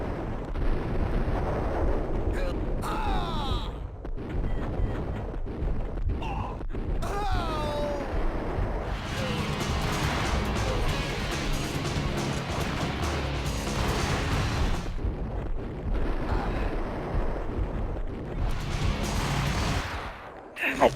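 Beretta pistol gunfire in Max Payne bursts out amid a dense, booming firefight, shots and heavy blasts piling up almost continuously, loud and close, with a voice over parts of the action.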